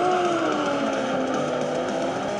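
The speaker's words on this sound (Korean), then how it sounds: "배기음 장난 아니에요." Racing car exhaust from a mobile video game plays through a MagSafe phone speaker, a loud sustained engine drone with gliding pitch shifting as the car revs, continuous and without voices.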